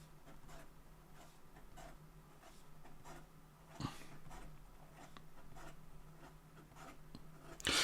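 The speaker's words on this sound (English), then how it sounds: "In regard to some fast writing" An Edison Elysian fountain pen moves quickly across paper, giving faint, rapid scratchy strokes in a quiet room with a soft tap partway through.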